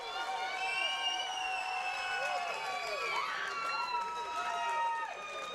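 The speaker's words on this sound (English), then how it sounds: "Here you hear Logan Chavez brought a crowd with him" A crowd cheers and roars for a fighter walking out to the blue corner at a Circle City MMA event in Indianapolis. The steady, loud noise fills the whole stretch, with rising and falling shouts and whistles.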